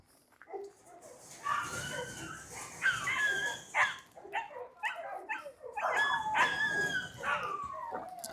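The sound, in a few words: dogs barking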